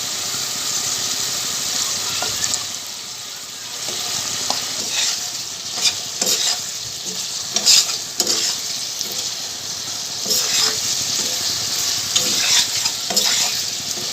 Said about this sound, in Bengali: মশলার সাথে বেগুনগুলো নেড়ে চেড়ে মিশিয়ে দিলাম